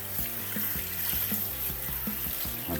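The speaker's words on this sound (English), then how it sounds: "I'll soak the sponge like this" A canister filter sponge from an Aqueon aquarium is soaked in a sink, with running water splashing and gurgling steadily over a constant background hum.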